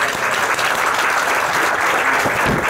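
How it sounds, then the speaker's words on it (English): A crowd at a senior apartments reopening ceremony claps loudly and steadily, dense, continuous applause close by throughout. "we ought to give them applause"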